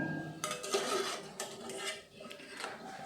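Fried cauliflower for gobi manchurian being drained and tipped into another vessel, with metallic clinks and scrapes of pots and utensils, close and fairly quiet, in a few irregular bursts.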